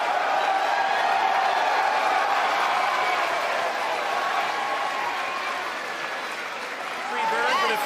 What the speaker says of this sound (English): you hear the cheering in the background